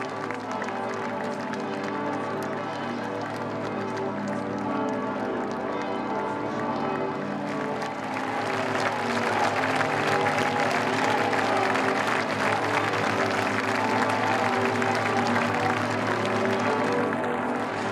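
A large crowd in Regensburg cheering and applauding Pope Benedict XVI in 2006, dense continuous clapping and shouting that swells louder midway, heard close and steady throughout.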